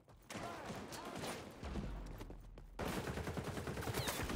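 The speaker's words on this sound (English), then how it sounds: "Okay, I shot the guy twice." Automatic weapon fire in the shooter XDefiant during a Domination round, with bursts of rapid shots over a dense layer of game noise.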